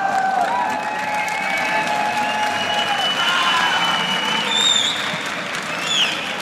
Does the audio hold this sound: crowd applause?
yes